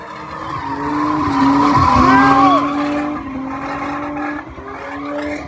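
A car drives on three tires and one bare rim at a nighttime street takeover, producing a loud, sustained tire squeal and skid that rises, wavers and fades, with the engine roaring underneath.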